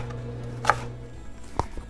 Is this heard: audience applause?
no